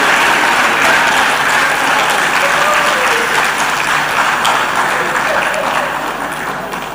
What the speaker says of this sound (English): I'll take the claps